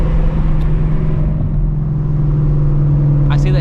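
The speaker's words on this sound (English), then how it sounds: "there's a kid with a loud Mustang, he's revving his car" A Shelby GT350 Mustang engine runs with a loud, steady low rumble, holding a constant drone with a faint rise near the end rather than sharp revs.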